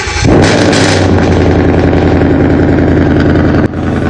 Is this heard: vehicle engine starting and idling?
yes